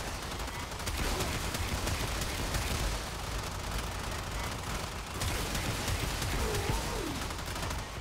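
Sporelacer kitgun, an Infested weapon in the game Warframe, fires a dense, steady stream of shots that blend into a continuous roar for the whole stretch, with no speech.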